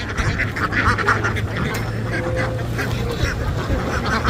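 Ducks quacking at a duck farm in a steady, busy chorus with constant outdoor background noise, no voices, continuous throughout.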